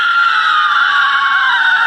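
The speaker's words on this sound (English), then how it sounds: "we decided to scream a little" Several people scream together at an outdoor group event, a sustained, loud, shrill chorus of voices that holds steady from start to finish without a pause.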